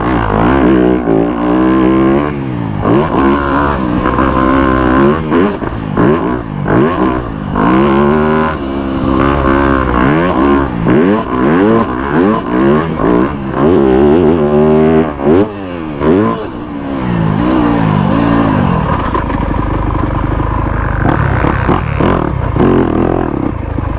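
A new Yamaha YZ250F dirt bike ridden over big jumps and rollers, its engine loud and close, rising and falling through repeated throttle blips and revs the whole time.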